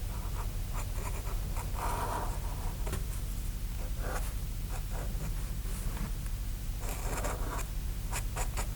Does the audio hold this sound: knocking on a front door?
no